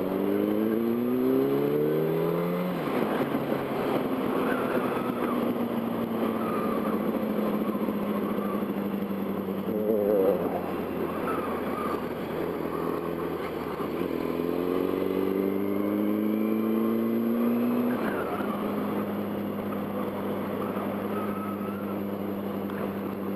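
A Yamaha R1 sport motorcycle's engine heard from the rider's seat on a city street, revving up through the gears in rising sweeps, dropping back and climbing again, loud and continuous with wind noise around it.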